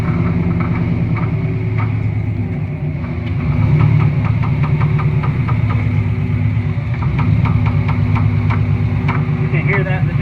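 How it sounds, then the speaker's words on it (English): An idling car engine hums steadily while a repeated popping knock sounds from worn eBay coil-over suspension, sharp clicks recurring through the drone at close range, with voices talking faintly underneath. "You can hear that in the video, but that's the popping noise."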